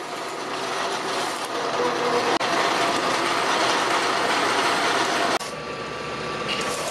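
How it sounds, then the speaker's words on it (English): A metal-cutting bandsaw cuts through wood in a workshop, a steady, loud mechanical rattle and whir with brief interruptions, without any talking. "started chiseling pieces out a little bit at a time with the metal cutting bandsaw"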